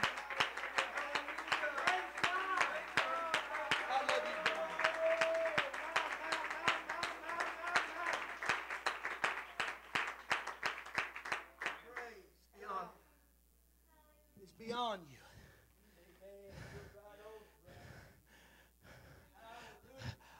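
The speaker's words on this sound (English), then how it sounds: "If you believe that, clap your hands and give God praise." A church congregation claps and applauds in praise, loud rapid rhythmic clapping with voices over it, thinning out after about twelve seconds into scattered sounds and talk.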